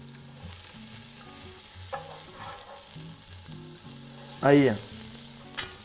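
Onion and scallion frying in olive oil, a steady soft sizzle that runs throughout, with one louder burst of crackling near the end and a brief spoken word over it.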